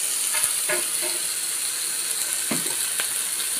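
Marinated chicken barbecue cooks on a heat source without added oil, giving a faint, steady sizzle with scattered light clicks and scrapes; no one speaks.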